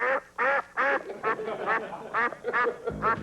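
A duck quacks loudly and repeatedly in an even run of about eight close, nasal calls, with a little background noise between them.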